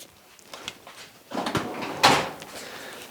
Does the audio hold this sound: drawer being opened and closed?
yes